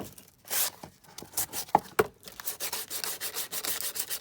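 Paper glued onto a journal box is sanded by hand in quick rhythmic rubbing strokes, soft and close, with no one speaking.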